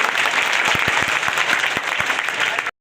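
A crowd at a school event applauds the teachers, loud dense clapping with a few sharp individual claps standing out, sustained for a couple of seconds and then stopping abruptly.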